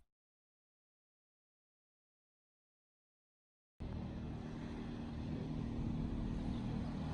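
A car rolls past after a stretch of silence, its engine and road noise coming in abruptly as a steady, fairly loud broadband rush that builds slightly toward the end.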